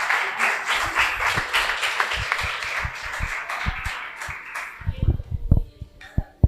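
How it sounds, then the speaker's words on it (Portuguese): A church congregation claps in praise during a worship service, while a preacher keeps speaking over the steady applause. The clapping thins into a few loud, separate claps near the end. "As palmas louvem ao Senhor"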